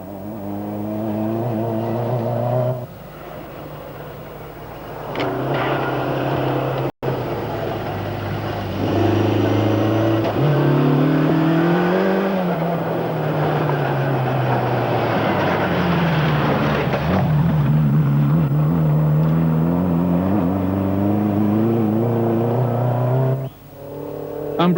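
Toyota rally cars at the 1985 Ivory Coast Rally on narrow dirt roads, engines revving loud and close, rising and falling through gear changes for most of the stretch, with a brief quiet gap near the start and the sound dropping off at the end.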